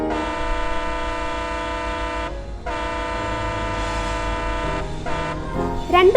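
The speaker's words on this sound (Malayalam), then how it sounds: "നീണ്ട 2 ഹോണുകൾ മുഴക്കി ട്രെയിൻ കടന്നു പോകുന്നത് സിഗ്നലുകളിലാണ്" An Indian Railway train sounds two long, loud, blaring horn blasts separated by a brief gap, followed by a rougher, shorter honk and a rising tone at the end.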